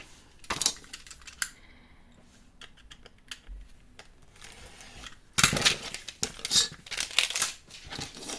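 Excess paper is cut away while making a mini album, with scattered crisp snips and rustles early on, then a louder, busier burst of cutting and paper handling toward the end.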